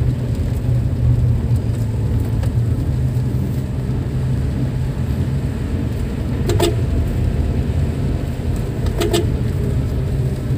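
An automatic car cruising in third gear along a gentle slope, its engine and road noise a steady low hum throughout, with two brief clicks or rattles partway through.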